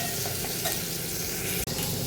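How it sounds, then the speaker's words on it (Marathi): Onion sizzles loudly and continuously while cooking in a pan of wild spiny gourd curry made Agri style, a brief dip breaking the steady hiss near the end. "आता कांदा शिजते बघा"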